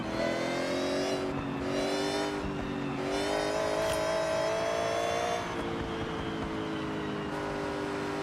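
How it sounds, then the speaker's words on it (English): Racing car in the video game Forza Horizon drives hard with a steady high supercharger whine riding over the engine, rising and falling through gear changes, loud and continuous without talk. "I love the supercharger wine on it."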